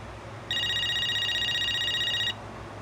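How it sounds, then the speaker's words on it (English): AT&T 5471 corded telephone ringing, one continuous electronic warble burst lasting under two seconds, clear and close over faint room hum, with no talking. "That's a nice ringtone."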